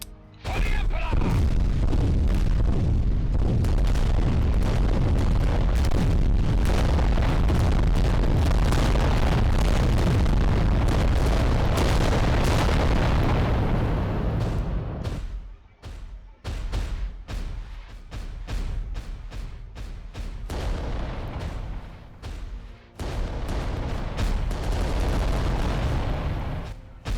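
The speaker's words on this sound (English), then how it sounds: "now we've got some volcano cannon hits" Heavy cannon hits and explosions from the tabletop-style giant war machine game Adeptus Titanicus: Dominus, a dense roar of booms for about fifteen seconds, then a run of sharper, separate blasts and impacts.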